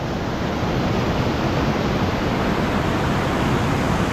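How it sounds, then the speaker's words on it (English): Steady, full-band rush of a waterfall below the Patriarchs in Zion National Park, a continuous broadband roar heard alone with no voices and no change in level. "And the falls down below it."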